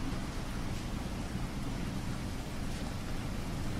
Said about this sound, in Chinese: 下这么大的雨，回去也不太方便。